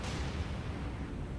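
Five-inch naval guns fire in the naval video game War on the Sea, a dense, loud, continuous roar of booming gunfire lasting over a second with no pauses.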